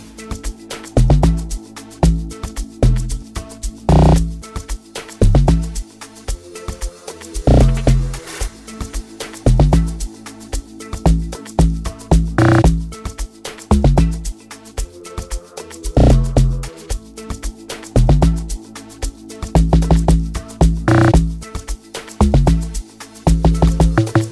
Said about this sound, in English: So it sounds like this together with the the log drum.